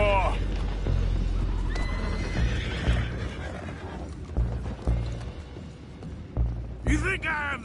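Horses whinny loudly in Red Dead Redemption 2, with a long neigh at the start and another near the end. Hoof clip-clop and creaking mechanical game sounds run beneath the calls.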